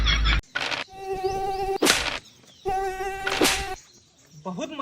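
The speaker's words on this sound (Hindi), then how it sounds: "बहुत मच्छर काटत हन यार" Mosquitoes buzzing close around overgrown grass in a rural spot, a thin droning whine that rises in several sustained bursts, with short breaks and a voice briefly cutting in.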